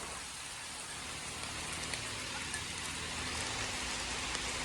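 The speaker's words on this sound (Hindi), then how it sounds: "यहाँ पे सब भी बारिश का मौसम है" Steady rain falls during the monsoon season near a railway crossing in rural India, a constant soft hiss of drops with no talk.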